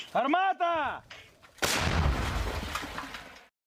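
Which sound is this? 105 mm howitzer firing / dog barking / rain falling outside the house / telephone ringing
105 mm howitzer firing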